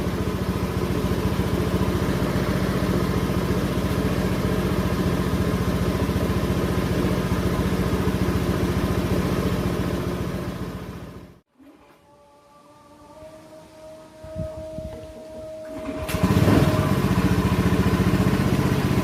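A Honda Scoopy scooter engine idles steadily while warming up, a continuous close hum for most of the stretch. It cuts out abruptly near the middle, leaving a quiet gap with faint tones, then the engine noise returns.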